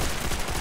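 Rapid gunfire in a Minecraft zombies game, a brief dense burst of shots at moderate level.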